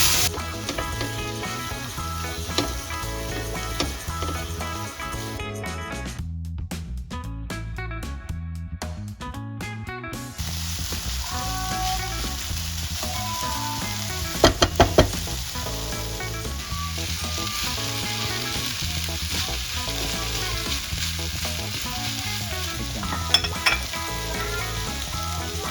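Garlic, onion and tomatoes sizzle steadily in hot oil in a pan, a continuous close frying crackle with occasional stirring and utensil clinks throughout.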